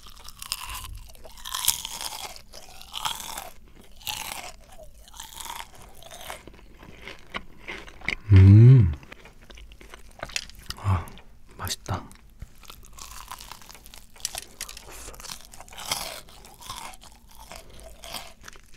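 Crunchy fried chicken batter is bitten with one loud crisp crunch near the middle, followed by softer close chewing. Someone talks quietly in Korean before and after in an intimate ASMR-style setting.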